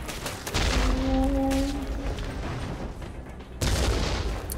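Gunfire from the top-down shooter game Killsquad crackles in dense bursts, loud and close, with a brief electronic tone in the middle and a heavier volley near the end.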